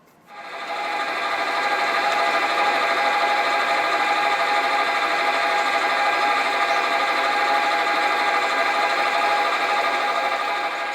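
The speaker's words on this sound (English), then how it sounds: "And now I'll just centre drill it." A steady, high-pitched machining whine runs continuously and loudly as a centre drill cuts into a steam engine cylinder cover on a metal lathe, with no talk over it.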